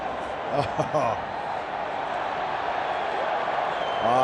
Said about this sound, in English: The crowd rewarding Scottish endeavour here, giving them a cheer.